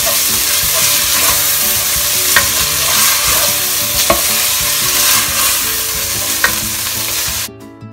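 Ingredients for Filipino sweet-style spaghetti sauce sauté in a pan until brown, a loud steady sizzle with scraping stirs, no speech.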